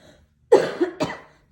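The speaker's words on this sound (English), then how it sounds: "Sorry, little cough." A single short cough, close and clear, with a quick second burst right after, then silence.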